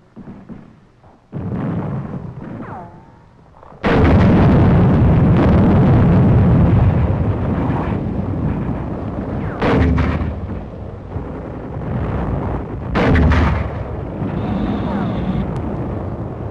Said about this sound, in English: Mortar crew gets ready for action.